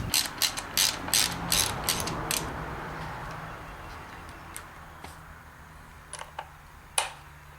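Ratchet loosening a nut on a 1984-1994 Chevy steering column, a close series of quick clicking bursts early on, then scattered single clicks after a quieter stretch.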